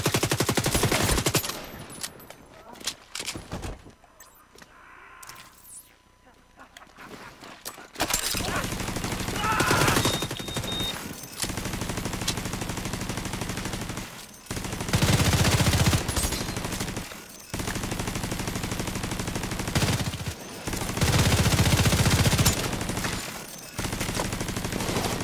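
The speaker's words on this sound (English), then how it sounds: "Some terrible shooting on my part." Player weapon fire in The Division 2 co-op, repeated loud automatic bursts separated by short pauses across the span, with occasional talk between them.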